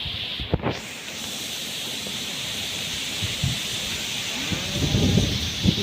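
Steady wind buffets the microphone with a constant hissing roar outdoors while float fishing for wild crucian carp, with occasional low thumps and gusts swelling near the end.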